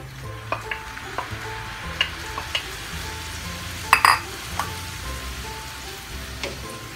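Ground pork with carrots and potatoes sizzling in a pan, a steady close frying hiss broken by scattered clicks and a few sharper clatters of stirring against the pan.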